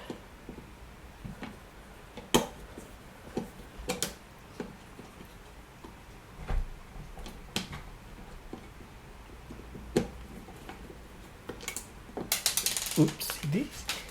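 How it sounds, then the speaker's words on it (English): A flathead screwdriver pries and scrapes at the cover plate of a Lutron Maestro occupancy sensor light switch. Scattered small clicks and ticks come close by, with a louder clatter of plastic near the end. "you're gonna get a flathead screwdriver and remove the the cover plate"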